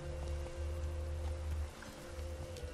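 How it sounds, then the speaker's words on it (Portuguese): Steady rain patters continuously over a low rumbling hum, without pause, in The Witcher III. "Tá chovendo também."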